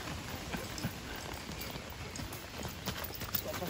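An Arabian horse's hooves clip-clop steadily on a ride, rapid repeated hoof strikes close by over a constant outdoor background hiss.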